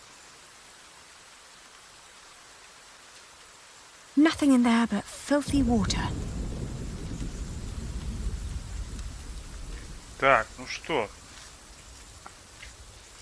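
Steady rain hiss in the game The Pillars of the Earth, a soft continuous wash under the whole scene, with loud bursts and speech from characters and a commentator over it.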